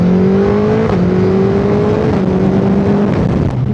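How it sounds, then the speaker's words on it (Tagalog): A loud, steady Suzuki Hayabusa 1,340cc sport motorcycle engine revs with a rising, whining tone that shifts pitch a few times, close and continuous. "Yung tunog ng motor pagka talagang ang lakas ng RPM niya no, para siyang muscle car na sports car."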